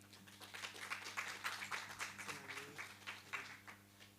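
Faint, scattered applause from a research colloquium audience welcoming a presenter, soft claps running steadily for a few seconds with a low room hum beneath.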